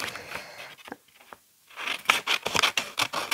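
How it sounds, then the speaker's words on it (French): Scissors snipping through paper for a pop-up card, a close series of crisp cuts with a short pause, then a denser run of quick snips. "Vous êtes obligé de découper comme ça."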